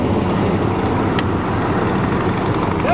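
Supercharged Jaguar XJR engine running steadily, a loud, even drone with broad rumble continuing throughout, a single brief click partway through.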